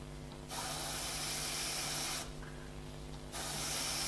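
An airbrush sprays a fine mist of paint onto a drawing of an eye, close hissing bursts that start and stop in three stretches of a second or two each, with no talk.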